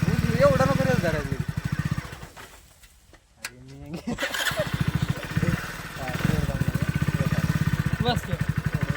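Motorcycle engine revved hard in repeated bursts, its throttle rising and falling close by, with a brief quieter gap midway while people talk over it.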